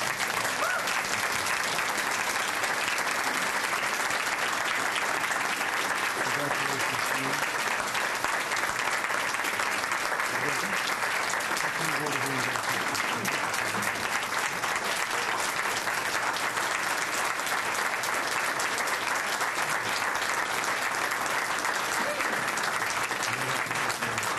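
Music students applaud at the Queen Elizabeth II Diamond Jubilee Medal Ceremony with sustained, vigorous clapping from a crowd that holds steady for the whole span. A few voices murmur underneath.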